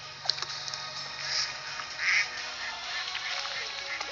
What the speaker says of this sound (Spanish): Estanque.